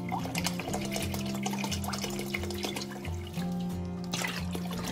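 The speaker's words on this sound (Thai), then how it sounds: "เสร็จแล้วเราก็มาผสมด้วยน้ำที่เหลือไปเลยค่ะ" Leftover water poured into a strained fingerroot (krachai) juice mixture, a steady continuous pouring and trickling sound close up, with faint background hum throughout.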